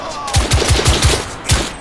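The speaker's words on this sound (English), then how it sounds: "Shot." Gunshots in the video game The Order 1886: a quick run of about five loud, sharp shots at a steady rhythm, then a short pause and one more close blast.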